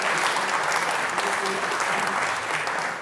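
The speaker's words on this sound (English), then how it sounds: "So another round of applause for Kerborough Community Centre and Lichfield Recycle." An audience at a community awards ceremony applauds the award nominees, a dense, steady wash of clapping that fills the room evenly from start to finish.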